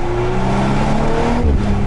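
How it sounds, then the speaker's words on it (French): A 2018 Audi RS5 with 450 horsepower and quattro drive accelerating hard on small roads, its engine revving loudly and climbing steadily in pitch, with a shift near the end. "le moteur monte tellement vite en régime que les vitesses vont les passer très vite."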